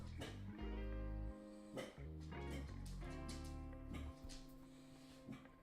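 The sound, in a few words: dogs barking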